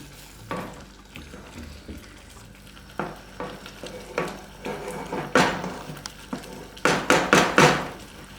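Fried paneer cottage cheese tipped into a pan with spices and stirred for matar paneer, giving irregular scraping and clacking strokes with a soft sizzle under them, growing louder and quicker toward the end.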